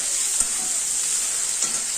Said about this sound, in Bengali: ভালো করে একটু নাড়বো পেঁয়াজটাকে একটু ভালো করে ভাজা ভাজা করতে হবে